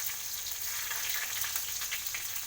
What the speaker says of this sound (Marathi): नंतर थोडंसं जिरं टाकणार आहे, कढीपत्ता टाकूया, नंतर ही एक मिरची कापून घेतली आहे ती टाकूया